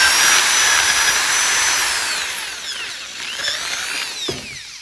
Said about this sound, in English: just ream it a little bit out so that it's a little bit bigger